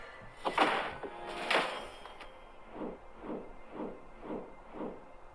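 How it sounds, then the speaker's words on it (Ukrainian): Loot containers open in the mobile tank game World of Tanks Blitz, with two bright whooshing bursts followed by a quick series of five soft, evenly spaced thuds at moderate volume and with no talk. "Відкриваємо контейнер третього рівня 5 штучок"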